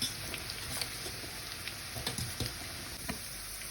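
Noodles deep-fry in hot oil with a steady, soft sizzle and occasional crackles and pops, close by.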